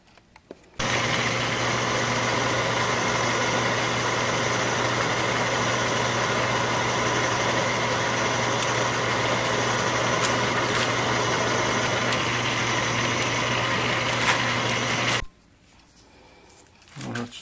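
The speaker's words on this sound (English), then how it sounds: "I'm cutting 18 threads per inch." A lathe cuts a left-hand thread at 18 threads per inch on a surface grinding wheel balancing arbor. A steady, loud mechanical hum with a whine runs evenly for about fourteen seconds, then stops abruptly, leaving quieter room noise.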